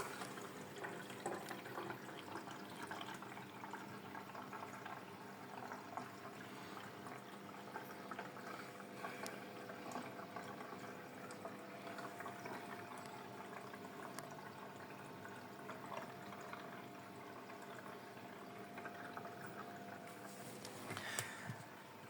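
A Thomson Precious Style dishwasher fills with water: a faint, steady trickling and rushing flow with a low mechanical hum that continues evenly throughout.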